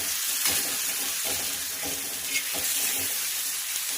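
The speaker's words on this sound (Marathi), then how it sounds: "छानपैकी असं मिक्स करून घ्यायचं आहे आणि फ्राय होऊ द्यायचं आहे याला" Onion-and-egg bhurji masala with salt and turmeric powder sizzling and frying in a pan on a street-style stove, with scraping stirs of a spatula repeating every half second or so, steady and close, with no talking.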